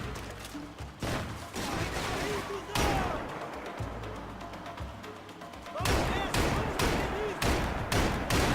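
Gunfire in Max Payne 3 during a swamp level, with dense, rapid volleys of loud shots that continue almost nonstop, easing briefly mid-clip before resuming hard, and a voice talking over it.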